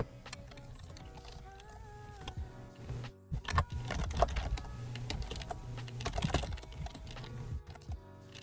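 Computer keyboard typing in quick, irregular bursts of clicks, fairly close and moderately loud, with some background music or tones running underneath.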